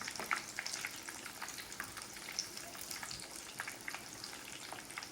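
Breaded mozzarella sticks fry in hot oil, giving a steady, close bubbling sizzle with scattered sharp pops and crackles throughout, no voices over it.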